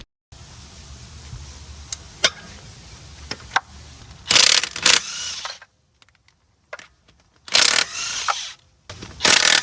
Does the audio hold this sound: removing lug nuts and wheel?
yes